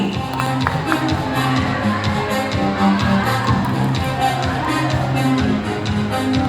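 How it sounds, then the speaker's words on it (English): Audience applause at a bird show at Cebu Animal Safari: a steady patter of many hands clapping, moderately loud and continuous, mixed with crowd murmur and a background voice or music. "A round of applause for our psychic bird"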